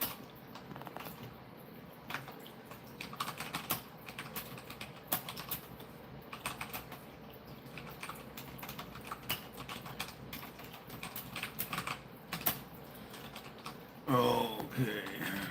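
Fingers type on a computer keyboard in rapid irregular bursts of close, crisp key clicks, with short pauses between runs and a brief burst of speech near the end.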